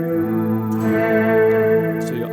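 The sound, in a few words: guitar reverb pedal effect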